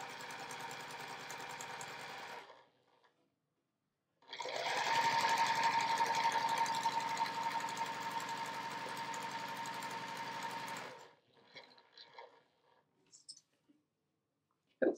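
A sewing machine runs in two bursts as it stitches along the short end of a quilted fabric piece: a short run, a pause, then a longer steady whirring stretch, followed by a few soft clicks and handling noises.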